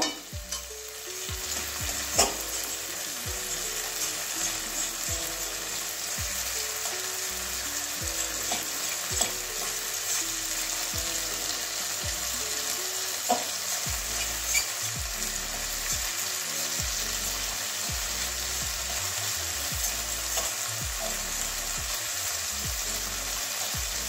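Continuous loud sizzling of egg frying in a pan, punctuated by frequent spatula scrapes and stirs throughout.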